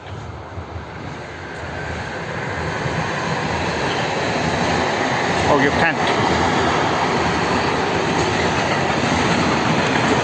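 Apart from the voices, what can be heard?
train passing by outdoors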